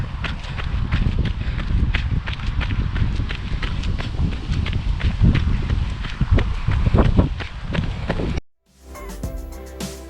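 Wind buffets the microphone during an easy outdoor run, a steady rough rush mixed with rhythmic footfalls, before cutting out abruptly near the end.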